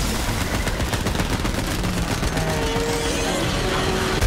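Rapid gunfire from Borderlands 3 crackles in continuous dense bursts, loud and close, with game effects layered behind it and no talking.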